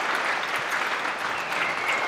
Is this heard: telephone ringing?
no